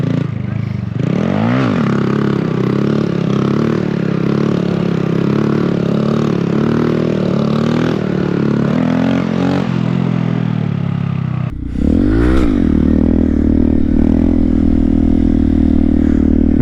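A Honda Grom motorcycle engine revs hard and steadily during wheelie stunt practice, holding a loud drone before a brief dip and then surging back up, close to the recording point.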